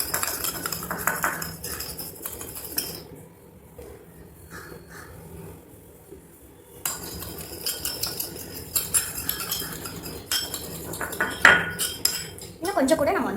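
A spoon scrapes and clinks steadily against a bowl while homemade slime mixture with paint and powder is stirred, close and busy, with a quieter stretch in the middle.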